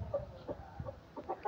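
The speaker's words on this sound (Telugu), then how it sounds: "ఇదిగో ఈ పుంజు," A farm rooster kept for sale gives a few short, throaty clucks in quick succession, close and moderately loud over light background noise.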